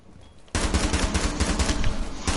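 Sustained rapid automatic gunfire in Rainbow Six Siege, loud and close, breaking in suddenly after a brief quiet moment and continuing steadily to the end.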